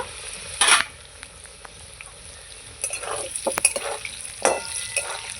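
Potatoes frying in a pan with a pinch of salt, a soft steady sizzle broken by a few sharp spatula scrapes and stirring clatters near the mic.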